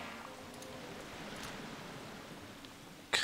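Rain summoned in the video game Ghost Master patters as a faint, even hiss, ending in a brief louder burst.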